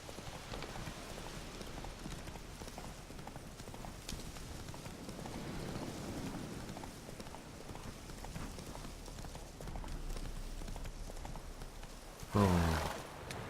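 Horse hooves clip-clop along a road in The Witcher 3, a steady trotting rhythm at moderate level under faint ambient game sound, with a short louder burst near the end.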